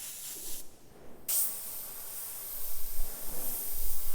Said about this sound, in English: Just going to have a go at the Segola airbrush,